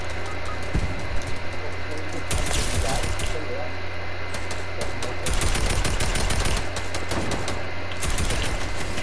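Fortnite gunfire in a squads match, rapid automatic bursts and single shots rattling loudly and continuously, with people talking over the shooting.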